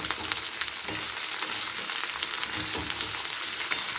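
Ridge gourd pieces fry in hot oil while making a loud, bright, continuous sizzle with small crackling pops throughout, alone and close.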